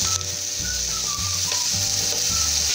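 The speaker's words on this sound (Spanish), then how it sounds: "Y vamos a poner a sellar nuestras presas ahí" Chicken pieces searing in a little oil, a loud continuous sizzle and crackle with occasional low bumps from the pan, close and steady with no talking.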